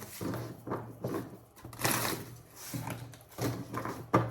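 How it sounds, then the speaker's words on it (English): A tarot card deck is shuffled by hand in quick repeated bursts of papery riffling and slapping, close and dry, with short pauses between passes. "Shuffling for Libra."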